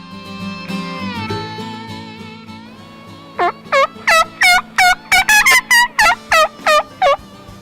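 A wild turkey gobbles in a rapid series of loud, close calls after a stretch of quieter tonal background sound.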